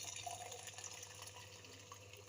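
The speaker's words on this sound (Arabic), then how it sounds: "المهم يعني هنزوده ميه سخنه" Hot water runs from a tap into a pot of koshari legumes during cooking, a soft continuous gushing pour that stays faint and even throughout.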